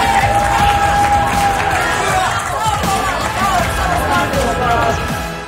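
Crowd of fans cheering and shouting at a farm reality-show contest, a steady loud roar of voices and applause throughout, with a presenter's voice heard over it.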